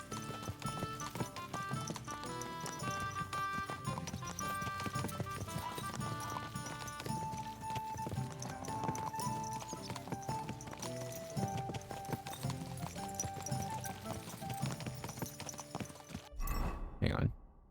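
Horse hooves clopping and a whinny in the video game Kingdom Come: Deliverance II, a steady clip-clop under continuous game music and background ambience, with talk mixed in and a sharp burst of sound near the end.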